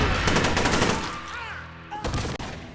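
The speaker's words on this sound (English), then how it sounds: "As soon as the robbers enter, Ariel opens fire without hesitation." Rapid bursts of gunfire ring out in a movie shootout as robbers burst in, loud volleys of repeated shots dominating the first second, then thinning to scattered, sharper cracks amid chaotic background noise.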